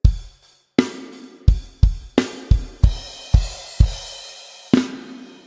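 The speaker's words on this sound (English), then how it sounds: "the end of the first chorus, you've got this beat that sounds like this" The drum beat closing the first chorus, played alone on a kit: irregular loud kick and snare hits with crashing cymbals, about a dozen sharp strikes with ringing decays.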